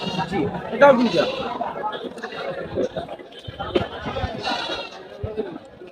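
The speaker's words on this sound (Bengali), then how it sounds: "এটা তুতাপুরি পাঠা দুই দাঁত বয়স" Goats bleat at a busy livestock market, including a Totapuri buck, with short bleats rising over constant nearby chatter and voices of people talking.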